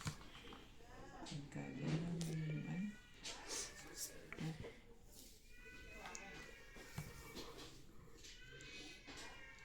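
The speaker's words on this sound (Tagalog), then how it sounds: "Hindi, pusa naman ata yun. Pusa." A cat meows loudly and repeatedly, with a drawn-out caterwaul early on, heard close by beneath people chatting in a casual home setting during a card game.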